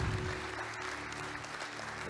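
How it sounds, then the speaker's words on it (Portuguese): A church congregation claps in a brief, fairly quiet burst of applause, with a low sustained tone, likely an organ or keyboard, underneath. "Dá para aplaudir a Deus, sim ou não?"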